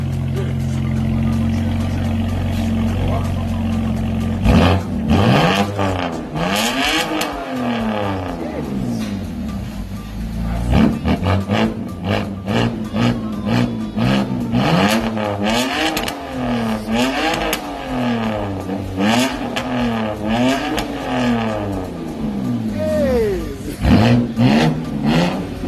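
Car with resonator and muffler deleted, running dual pipes instead of quad, revving repeatedly in loud, raspy bursts that rise and fall over a rumbling idle, close by, with people talking between revs.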